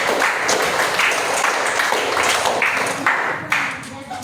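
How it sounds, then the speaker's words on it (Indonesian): Students in an Indonesian classroom lesson clap together after a teacher's prompt, a dense, steady burst of hand claps that fills the clip and tapers near the end. "tepuk tangan"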